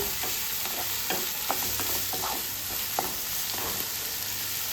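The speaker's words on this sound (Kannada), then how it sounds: "ಇದನ್ನು ಚೆನ್ನಾಗಿ ಫ್ರೈ ಮಾಡ್ಕೊಳ್ಳಿ" Food frying in a pan until soft, stirred over and over, giving a constant bright sizzle broken by repeated scraping strokes of a spoon, close and with no voices.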